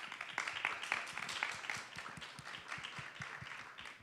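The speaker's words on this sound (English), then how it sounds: "please join me in thanking her with a round of applause" Scattered audience applause at an event thanking a funder, faint and distant with a handful of distinct individual claps in an uneven rhythm over a quiet room.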